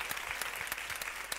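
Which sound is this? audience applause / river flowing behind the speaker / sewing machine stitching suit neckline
audience applause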